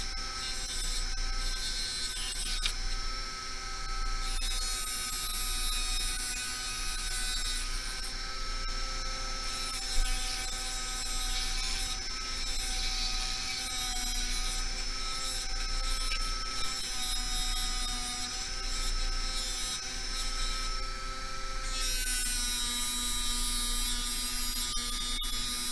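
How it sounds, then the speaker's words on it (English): Small power tool sanding excess material off a beaded halo ring held in a ring clamp, a steady high-pitched whirring buzz running throughout at close range with a faint mains hum underneath. "I'm just going to go ahead and sand off that excess."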